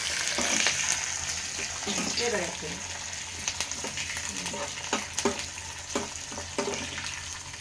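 Dried red chilli, green chilli and curry leaves sizzle and crackle in hot oil as a tempering, with a steady frying hiss and scattered sharp pops and spatters across the whole stretch.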